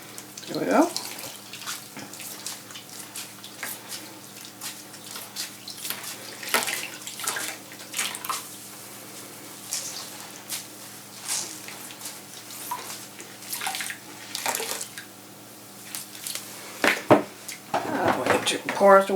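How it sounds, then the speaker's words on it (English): Rinse water is poured out of a container after washing hand-dyed yarn, with splashing and trickling in scattered bursts, a few knocks of the vessel, and a louder gush of pouring near the end. "To pour out the water."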